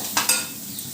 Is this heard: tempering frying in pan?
yes